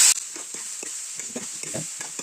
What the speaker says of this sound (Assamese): আমি অলপ এনেকে ভাজি লৈছো